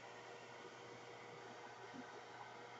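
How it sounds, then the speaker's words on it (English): A hair dryer on a low setting blows while drying a steampunk thermometer, heard as a faint, steady broadband whoosh that stays unchanged throughout with no voices. "I got to give it a little dry with my hair dryer"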